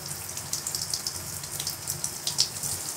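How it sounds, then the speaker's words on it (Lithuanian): Hot water running from a Hansgrohe Vernis Blend thermostatic shower mixer, a soft continuous spatter with small irregular splashes, fairly quiet and steady throughout. "Norit karštesnio, paspaudžiam ir maksimalus karštas vanduo bėga."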